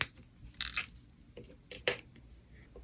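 Wire cutters snip square jewelry wire off a wooden dowel to make jump rings, giving a few sharp, close metallic clicks spaced apart against a quiet background.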